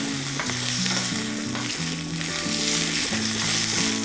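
Curry leaves and green chillies sizzling in hot tempering oil, a dense close crackle under a steady tonal background, loud and continuous with no speech.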